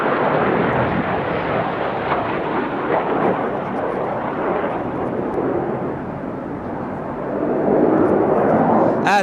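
Red Arrows display jets roaring overhead during an air show at Bournemouth beach, a loud, continuous broadband jet rumble that holds steady for the whole stretch and swells again near the end.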